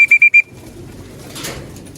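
Racing pigeons landing at the loft during a derby race in Abulog, Cagayan, with a few quick bright chirping calls at the start, then soft rustling and flapping close by.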